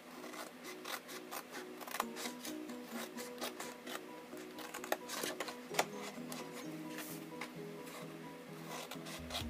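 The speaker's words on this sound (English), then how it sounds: "Now we're going to cut up these ones here, taking out the score line. So it's just a slight notch in, removing the score line." Scissors snipping small notches out of the score lines on a sheet of card for a box, a series of soft, close cutting and rubbing sounds in an irregular rhythm, with no voices.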